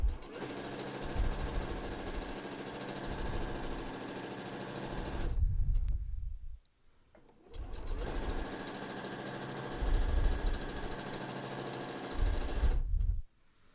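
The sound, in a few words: sewing machine stitching fabric mask straps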